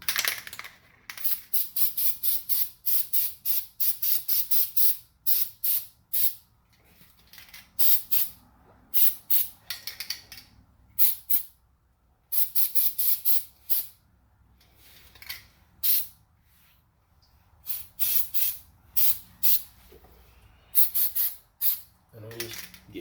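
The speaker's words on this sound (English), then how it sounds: "I'm gonna spray this on here to try to prevent this next time" Aerosol can sprayed onto the brake rotor hub assembly of a Cadillac SRX during a brake job, in dozens of short sharp hissing bursts in rapid clusters with brief pauses, close and fairly loud, no talking.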